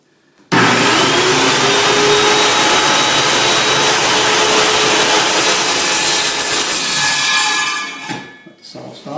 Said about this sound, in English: I'm just going to do a slight little test cut